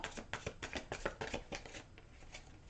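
Tarot cards being riffle-shuffled up close, several quick crisp bursts of rapid flicking followed by a softer, trailing shuffle.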